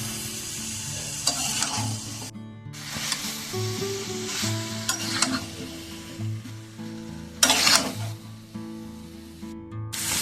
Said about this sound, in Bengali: ভালোভাবে এখানে মশলার সাথে এঁচোড়গুলোকে মিশিয়ে রান্না করে নেব।